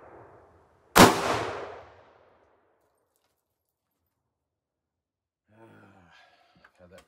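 .45-70 rifle fires a Lehigh 305-grain Xtreme Penetrator into a gel block: a single sharp, loud outdoor shot with a decaying rumble, then silence and a man's faint speech near the end.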